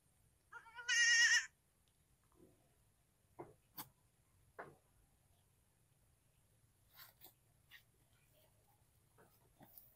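A young goat kid bleats once, loud and strained, while receiving an iron and vitamin B complex injection, followed by quiet handling taps and small thumps in an otherwise still setting.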